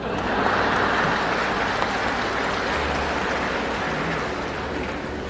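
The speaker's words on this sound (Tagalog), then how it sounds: "Kokonti ang mga congressman na pumapalakpak." Congressmen applauding in a legislative chamber, a steady broad wash of clapping that holds for several seconds and slowly thins out, with no one speaking.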